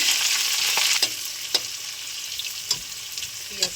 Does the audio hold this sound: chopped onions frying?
yes